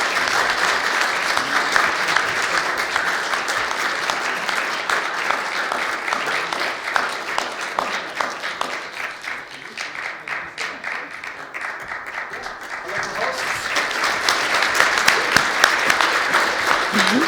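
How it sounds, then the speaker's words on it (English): Sustained audience applause at a South East Europe technical community meeting, steady dense clapping throughout that swells slightly louder toward the end. "So please, round of applause."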